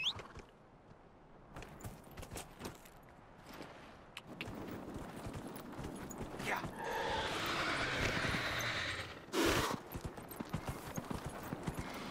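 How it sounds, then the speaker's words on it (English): Horse in the fantasy game Dragon Age Inquisition trotting with steady rhythmic clip-clop hooves that grow louder midway, with a short whinny and a player talking over the game sounds. "Get my horse. Call my horse here."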